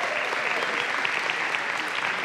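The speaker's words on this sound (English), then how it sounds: "And so let's give a cheer for the dads." An audience cheers and claps for fathers at a Father's Day gathering, a dense, steady wash of applause that fills the space without letup from start to finish.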